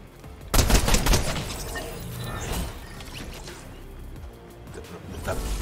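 Gunfire in the Fortnite video game, a sharp burst of rapid pistol shots near the start followed by clattering mechanical noise and fainter shots, with another loud hit at the end.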